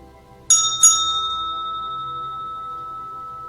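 A meditation bell rings at the close of a guided mindfulness practice, two bright strikes in quick succession followed by a long, clear, slowly fading ring in a quiet room.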